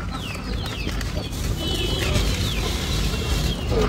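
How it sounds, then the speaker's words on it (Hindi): Hens cluck and coo in a backyard flock gathering at scattered feed grain, steady overlapping calls over a continuous low background rumble. "वो मुर्गी आके खाएंगी"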